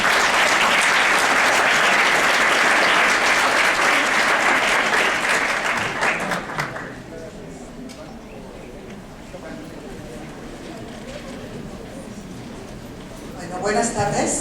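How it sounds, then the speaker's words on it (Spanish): Audience at a hematology conference, the VI Congreso de la AMEHDL, applauds to welcome a speaker: loud, dense clapping for about six seconds, then dying away to a quieter room with a voice beginning to speak. "al que le pido un aplauso para darle la bienvenida"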